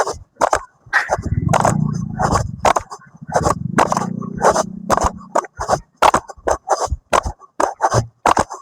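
A dog barks in short sharp bursts, several in a row at irregular intervals, fairly close, with scraping and rustling noises in between.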